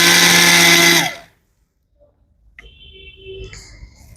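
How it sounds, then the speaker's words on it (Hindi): Almonds ground in an electric mixer grinder: a loud, steady motor whir runs for about a second and then cuts off abruptly, followed by quieter handling noises. "अब बादाम डाल लिए, बादाम को पीसते हैं।"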